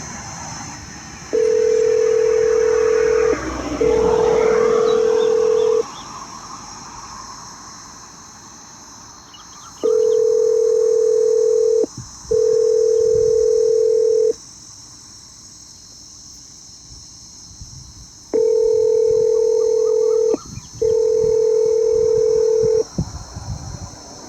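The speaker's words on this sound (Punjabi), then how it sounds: "ਰਿੰਗ ਜਾਰੀ ਵੀਰ ਜੀ ਹੁਣ ਦੇਖਦੇ ਆ ਫੋਨ ਨੂੰ ਉਠਾਉਂਦੇ ਨੇ ਕਿ ਨਹੀਂ ਉਠਾਉਂਦੇ" An emergency call telephone rings back in paired bursts of steady tone, three pairs spaced by quiet gaps, loud and close over a faint insect-like chirring background.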